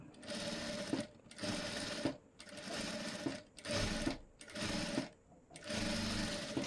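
A sewing machine stitches a blouse neck design in six bursts of rapid mechanical whirring, each stopping briefly before the next.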